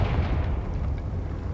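Confringo spell explosion in Hogwarts Legacy, a dense low rumbling blast that fills the whole short moment at steady loudness, close and heavy.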